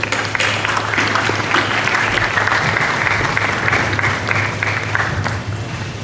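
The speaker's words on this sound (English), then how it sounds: "Please join me in a round of applause for our graduates." A commencement audience claps steadily for graduates, a dense wash of applause that holds across the whole stretch with a low hum underneath.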